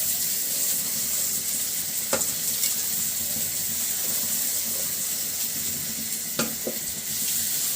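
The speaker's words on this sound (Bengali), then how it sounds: "চালগুলো দিয়ে দিচ্ছি।" Washed, drained polao rice tipped into a pot for beef polao, giving a steady sizzle of hot fat with stirring scrapes and a couple of sharper clatters.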